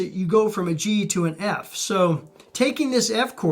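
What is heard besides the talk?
No distinct noise like a dog, phone or traffic.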